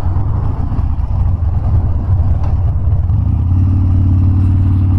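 A 2015 Harley-Davidson Dyna Street Bob with a six-speed box rumbles steadily while ridden at low speed. The deep engine drone holds through the clip and thickens into a fuller, louder throb near the end.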